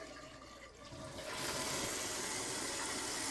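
A household toilet flushes close by, its tank opening into a loud, steady rush of water about a second and a half in that keeps gushing at full strength to the end.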